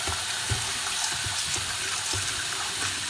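Tap water runs in a steady, loud stream over guajillo chili peppers being rinsed in a sink, with soft splashes and handling knocks beneath the constant rush.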